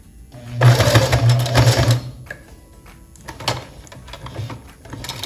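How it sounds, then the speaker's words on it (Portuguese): A domestic sewing machine stitches fabric in a loud, steady whirring run for more than a second, then stops. Lighter clicks and handling noises follow as the presser foot is lifted and the cloth is turned. "eu vou levantar o pé da máquina só para virar e começar a costura novamente"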